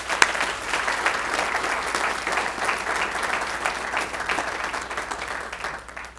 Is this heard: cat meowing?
no